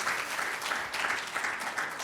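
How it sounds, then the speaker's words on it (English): Audience applause closes a panel discussion at a conference on enhanced geothermal systems, a steady dense wash of many hands clapping near and loud for about two seconds, with a faint voice underneath. "let's have a round of applause for a really great"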